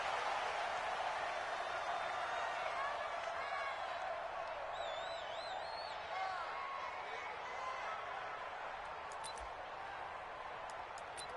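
A stadium crowd roaring in an NFL video game, Philadelphia Eagles versus Tampa Bay Buccaneers, a constant loud broad crowd noise with whistles and cheers rising through it, and a commentator talks over the top.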